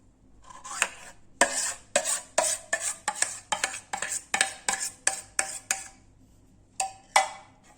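Chocolate cake batter scraped from a bowl into a mold with a spoon, a run of about fifteen close, sharp clinks and scrapes in quick irregular rhythm, with no talk.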